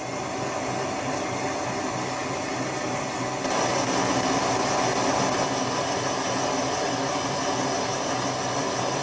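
A vintage Karger lathe reaming metal, a steady dense mechanical whir and grinding hiss that runs unbroken throughout and grows slightly louder partway, with no talking.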